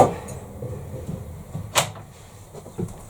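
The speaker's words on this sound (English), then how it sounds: "Actually, let's open the other door," A wooden garden shed door being opened, with soft knocks, a sharp latch click and light creaking thuds in a quiet outdoor setting.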